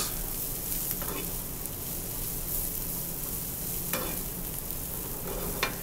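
Bacon sizzling and frying in a pan, with a steady crackle throughout and a few sharper scraping sounds as it is stirred around, no voices.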